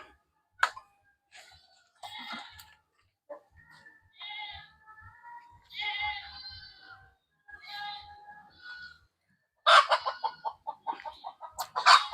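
Chickens on a small farm cluck and croon intermittently at moderate distance, with scattered soft calls building to a louder run of rapid clucks near the end.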